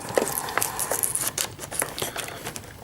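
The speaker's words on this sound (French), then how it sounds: "c'est le format de blister qui est assez simple à ouvrir" Crinkly plastic blister packaging of a Transformers Combiner Wars Air Raid toy is sliced with a paper cutter and torn open with a series of sharp crackles and scrapes, close up, with no talking.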